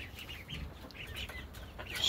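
Backyard chickens cluck in short, repeated soft calls at close range, scattered over a low rustling background with no talk.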